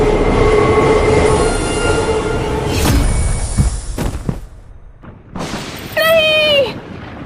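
A metro train pulls into a platform, its loud rumbling roar carrying on for several seconds, then fading, before a high screech of wheels or brakes near the end, with a voice speaking over it.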